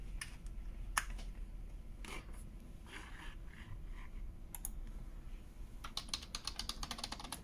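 Keys clatter in bursts of rapid typing on a USB keyboard, crisp clicks close by with short pauses between runs over a steady low hum.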